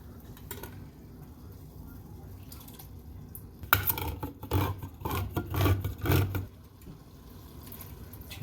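Vegetable juice poured into a pot of chili, a soft liquid splashing and trickling burst in the middle, with faint kitchen clatter before and after.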